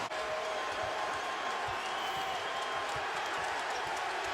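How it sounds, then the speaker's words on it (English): Arena crowd noise at the American Airlines Center during an NBA playoff game between the Dallas Mavericks and San Antonio Spurs, a steady loud roar of cheering fans on their feet, continuous throughout with faint ball bounces beneath. "And the crowd on its feet here at the American Airlines Center."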